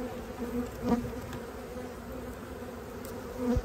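Honey bees buzz steadily in an open hive colony during a winter-prep inspection, a continuous droning hum with a few individual bees passing close and louder, and no talking.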